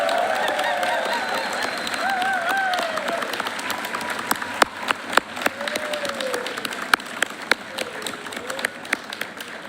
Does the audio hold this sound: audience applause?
yes